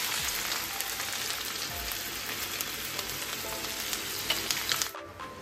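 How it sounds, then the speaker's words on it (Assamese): Ginger-garlic paste hisses and sizzles steadily in hot oil with whole cumin, dried red chillies and bay leaf, a dense, continuous frying crackle close by that cuts off abruptly near the end. "আদা নহৰু পেষ্টখিনি দি দিছোঁ"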